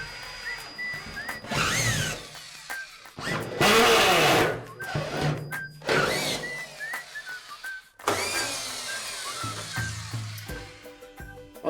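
A power screwdriver drives 25 mm wet area screws through tile backer board into studs, giving several close bursts of whirring, rising motor whine with short gaps between them.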